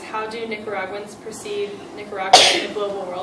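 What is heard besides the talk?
sneeze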